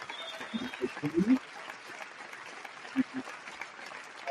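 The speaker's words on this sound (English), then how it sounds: "I want to give all of you a well-deserved round of applause, if you don't mind, like this." An audience at a motivational talk gives a round of applause, a thinner, uneven patter of claps with a few louder bursts, while a voice speaks over it in places.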